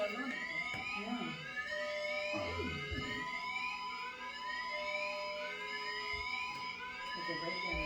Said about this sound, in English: Sounds like some sort of alarm.